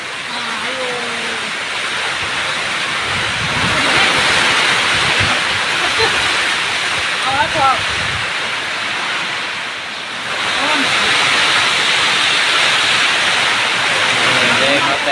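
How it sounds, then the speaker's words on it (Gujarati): Heavy rain pours down in a steady broad hiss that swells louder for long stretches, close to the microphone with some wind buffeting, while people talk briefly. "આ ભાગો આયો વરસાદ ચાલુ થઈ ગયો છે"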